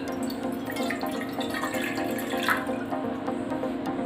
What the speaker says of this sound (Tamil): ஒரு பேனில் 1 டம்ளர் தண்ணி சேர்த்துக்கலாம்.